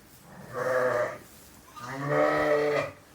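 Pregnant ewes bleat in lambing sheds, two distinct close bleats about a second long each, loud and clear with a short pause between them.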